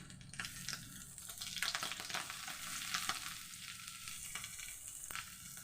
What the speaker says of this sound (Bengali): এখন আমি পেঁয়াজ দিয়ে নিব।